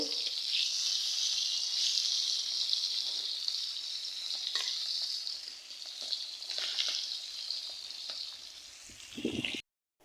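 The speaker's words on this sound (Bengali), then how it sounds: "এই যে এখানে মাছ ভাজতেছি" Fish frying in a pan gives a steady close sizzle throughout, with brief sharper crackles and spatters near the end and no voices.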